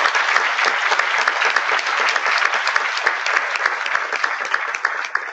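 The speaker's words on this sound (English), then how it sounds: "So I want to give everybody a big round of applause." A conference audience applauding at the DMUC 2018 opening plenary session, a loud, dense, sustained clapping that continues evenly throughout.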